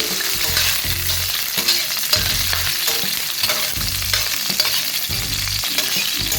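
Green chillies frying in hot oil in a pan give a constant bright sizzle, with rhythmic stirring knocks and scrapes repeating every second or so, close and loud, with no voices.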